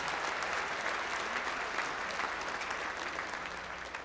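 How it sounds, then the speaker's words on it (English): A commencement crowd at Claremont Graduate University claps in sustained applause, a dense, even patter of many hands that carries on steadily and eases slightly toward the end. "So let's give a round of applause to thank them for everything they do for CGU."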